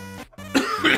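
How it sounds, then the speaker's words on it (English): A sick person gives a short run of coughs and throat clearing, close and fairly loud, with a brief quiet gap between bursts and no speech. "I'm so sorry about all the coughing."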